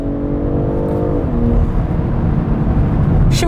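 A BMW M340i Touring accelerates in sport mode, its engine a steady loud drone with a rising tone that shifts partway through, heard from inside the car.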